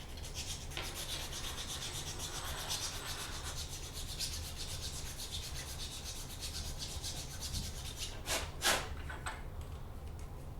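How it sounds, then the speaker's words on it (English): Hand filing on a small 3D-printed plastic part for a miniature drill press, a steady scraping rasp that runs nearly throughout, close and moderately loud, with a couple of sharper scratches near the end. "Nope, got to do a little bit of filing there."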